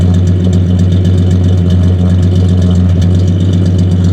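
A 1965 Plymouth Valiant's 170 cubic inch slant six, fitted with a custom exhaust and a carburetor slightly out of adjustment, idles steadily and loudly with a deep, unbroken drone and no talking.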